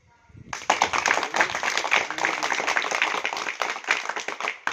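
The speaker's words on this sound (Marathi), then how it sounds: "एकदा जोरदार टाळ्या वाजवा" Schoolchildren at a road-safety talk clap loudly together, a dense burst of rapid hand claps starting abruptly and continuing steadily for several seconds in a room, close and energetic.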